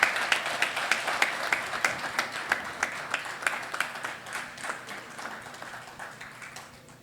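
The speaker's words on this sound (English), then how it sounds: "Please give a huge round of applause" An audience at a capital-market annual conference claps in steady applause that slowly fades over several seconds.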